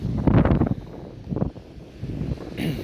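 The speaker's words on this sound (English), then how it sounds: "Sorry, it's a bit windy now." Wind buffets the microphone near the water in low, rumbling gusts that rise and fall, with the strongest blast at the start and softer rushes after.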